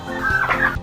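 A male turkey on a farm lets out a single loud, close gobble, a rapid warbling burst lasting under a second and heard on its own with no other voices.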